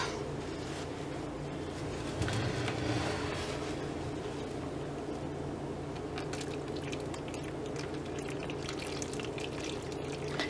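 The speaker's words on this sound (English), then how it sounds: "And I'm going to pour it off into my mold." Steady pouring and splashing of very hot melted soap into a mold, with a brief louder gush, over a constant low background hum.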